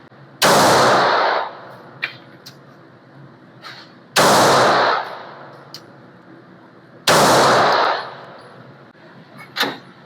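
Three loud, close pistol shots, fired at evenly spaced intervals with a handgun fitted with XS Sights DXT2 Pro, each a sharp crack followed by a ringing decay.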